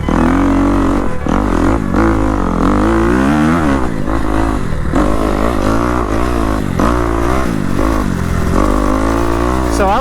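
Dirt bike ridden on its first lap around a sand training track, engine loud and close with constant revving that rises and falls through gear changes and throttle bursts, continuous the whole time.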